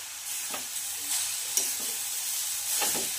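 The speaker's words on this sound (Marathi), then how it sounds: "आपण 1 चमचा तूप घालत आहोत आणि छान याला मिक्स करून घ्यायचं आहे" Spoon stirring a sweet mixture with a spoonful of ghee in a hot pan, soft steady sizzle with a few scraping strokes, close and fairly quiet, no talk.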